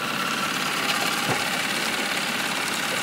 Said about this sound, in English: So I'll just give a quick view of the motor.